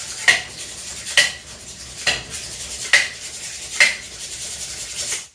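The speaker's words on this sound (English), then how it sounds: "and you just want to whisk it up" A whisk scrapes and clinks against the sides of a bowl of yeast in sugar water, about five rhythmic strokes roughly a second apart, close and clear with no voices.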